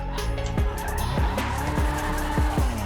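Race cars in Grand Theft Auto skid repeatedly, with several loud descending tire squeals over a continuous engine roar, one after another.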